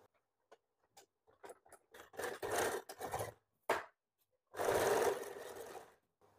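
A sewing machine stitches the fittings of a bra-cut blouse in short bursts: several brief runs and clicks, then a longer sustained stretch of stitching, close and fairly loud with quiet gaps between.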